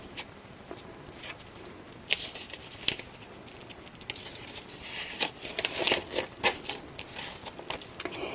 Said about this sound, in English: I'm going to flip over to page 74